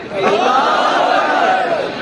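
A large crowd at a religious poetry gathering shouts a loud, sustained collective response to a Takbir slogan, a dense roar of many voices lasting a couple of seconds.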